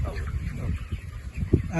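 Chickens cluck at a poultry farm in Haveri district, Karnataka, with scattered soft calls mixed under close conversation.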